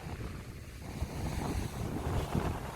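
Gusty wind buffets a microphone on a Dorset beach during shore fishing for sea bass, a steady broadband rush with low thumps and surf-like swells and no voices.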